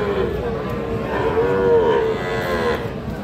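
A cross-breed bull calf moos at a busy cattle market, one drawn-out, wavering call rising from steady crowd and yard noise.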